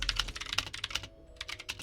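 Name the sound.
computer keyboard typing, newly bought keyboard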